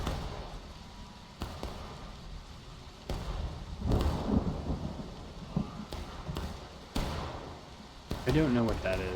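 Heavy downpour with rolling thunder in the Civil War battle game War of Rights, a steady rain wash broken by several loud thunder cracks and rumbles, with muffled talk and a distant bugle-like tone near the end.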